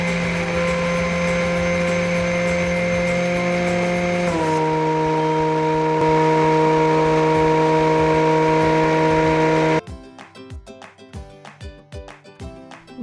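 A blender running at maximum speed to pulverize sugar and cornstarch into icing sugar, a loud steady motor whine that drops in pitch as the load changes, then stops abruptly, leaving clattering and rattling.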